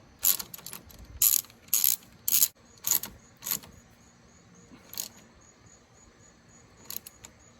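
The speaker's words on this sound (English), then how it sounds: "Just push it on there and just tighten it up. 10 mil." Ratchet clicking in short bursts as a 10 mm nut is tightened on a car battery terminal of a 2017 GMC Acadia, close and crisp with pauses between strokes, then a few isolated clicks.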